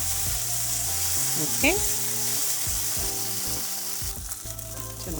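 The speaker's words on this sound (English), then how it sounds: "So just add them, give it a good stir" Chopped vegetables sizzle steadily in a hot pan for a rice and ground turkey dish, with scraping stir strokes and a brief clatter over the constant frying hiss; a voice speaks a single short word.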